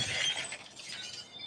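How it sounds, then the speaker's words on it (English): A glass coffee table shatters after being dropped, with a bright burst of breaking glass at the start that fades into a scattered tinkle of shards, fairly faint and heard alone. "Now a stylish glass coffee table."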